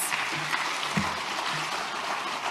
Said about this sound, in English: let's give those volunteers an early round of applause